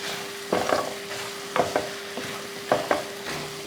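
Meat fries in a pan with curry leaves for a Tamil non-veg Diwali lunch, a constant sizzle broken by a few short scraping stirs of a spoon against the pan.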